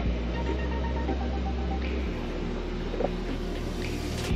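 A Sea Ray boat refrigerator, newly powered on, runs with a steady low hum and faint static, its tone shifting slightly partway through, close and continuous with no speech.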